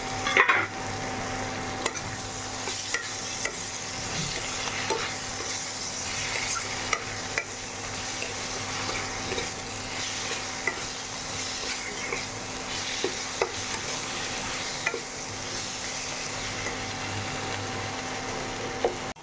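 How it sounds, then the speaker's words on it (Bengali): Potatoes fry with a cooked-down spice paste in a pan, giving a continuous moderate sizzle punctuated by regular clicks and scrapes of stirring, with no voices. "মশলাটা ভাজা ভাজা হয়ে গেছে, আর আলুটা দিয়ে দিলাম।"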